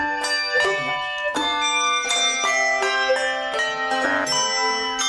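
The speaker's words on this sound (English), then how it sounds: "At first, Mana couldn't play the bell properly" Handbells or chime bars rung by a school bell ensemble, several bright, ringing strikes overlapping in a fast rhythm, with sustained tones decaying between hits, close and clear with no talking.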